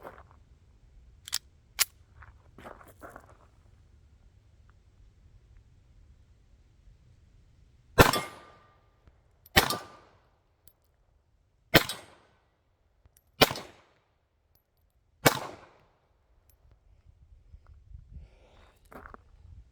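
A Romanian Beretta 1934 pistol in .380 fires at steel targets, five sharp, well-spaced shots cracking loudly against a quiet range, with faint handling clicks before them.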